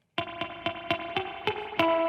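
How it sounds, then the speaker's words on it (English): Guitar notes played through a drippy reverb pedal feeding a delay, seven sharp plucked attacks in a steady rhythm, each trailing into a wet, splashy tail with slapback-like repeats, loud and close with no voices. "So here is that drippy reverb."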